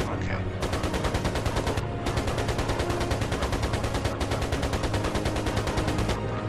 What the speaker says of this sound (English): Shoot down target with machine gun.